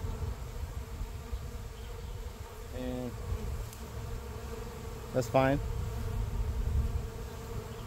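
Honey bees swarm around a hive during a frame transfer between hives, a steady low buzzing close by with brief louder passes of single bees near the microphone and a short remark spoken over it.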